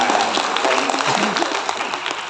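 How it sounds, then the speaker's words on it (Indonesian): Applause from an audience for the PLD staff at an Indonesian meeting of village assistance workers, a brief steady burst of clapping with talk running over it. "tepuk tangan yang PLD"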